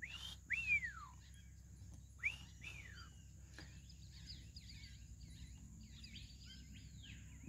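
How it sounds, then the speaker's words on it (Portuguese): Songbird in preserved Amazon rainforest delivers clear, descending whistled notes in a few separated bursts, over a soft constant hum of insects and forest ambience; no talking. "Ó, o passarinho lá."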